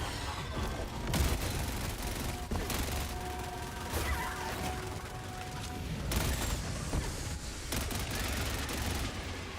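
Gunshots in Helldivers 2, a few sharp reports spaced seconds apart over a busy background of mechanical hum and battle noise, moderately loud.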